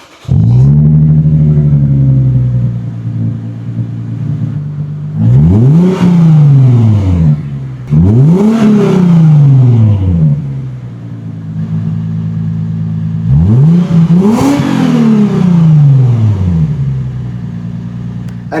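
A V6 Lexus with its silencers removed revs loudly and close by, in three hard bursts whose pitch climbs and falls back each time, over a steady deep idle rumble.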